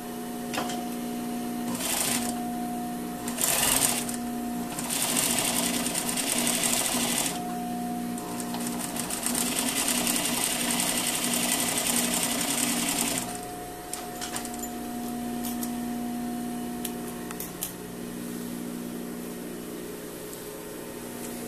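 A sewing machine stitches an understitch along the facing of a lined tailored jacket, running in a steady buzzing whir with short stops and restarts, then quieter handling at the end.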